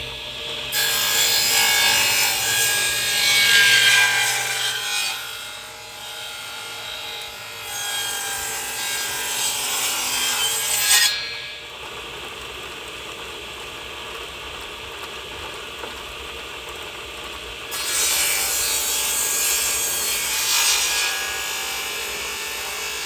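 Wood being sawn into 3/4-inch strips while building a wooden flag by hand, a loud close cutting noise running in two long passes separated by quieter stretches, with no talk.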